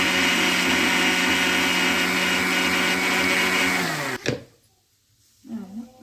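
A kitchen mixer grinder whirs loudly and steadily while pureeing palak spinach, then cuts off abruptly, leaving near silence broken by a short voice.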